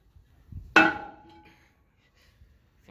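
A hammer strikes a wheel stud stuck with rust and scale on a Freightliner Cascadia truck during wheel work. A single sharp, ringing metallic blow is heard close up, decays over about half a second, and is followed by quiet.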